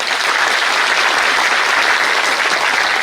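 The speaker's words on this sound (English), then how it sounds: "Very, very big round of applause for the wonderful, beautiful speech by our Honorable Chief Minister" Loud, dense applause from a large audience at an achievers' felicitation ceremony after the Chief Minister's speech, a continuous even roar of clapping close up with no voices over it.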